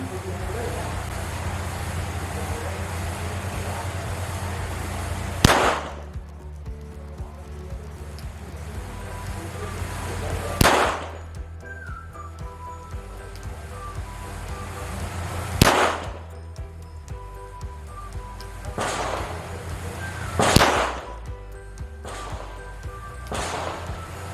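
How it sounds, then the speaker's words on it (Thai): A Taurus TS9 pistol fires a string of shots at close combat range of about seven yards, each report a sharp loud crack spaced roughly five seconds apart over a steady background hum. "ชุดที่2นะครับยิง5นัดนะครับ กับตัว TS9 เทารัดกระบอกนี้นะครับ"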